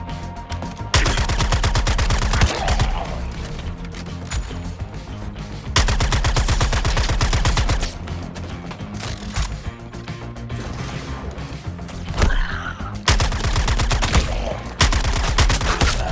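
Bursts of gunfire from the Suicide Squad: Kill the Justice League video game, loud rapid volleys in several separate stretches over a dense game score, with quieter gaps between them.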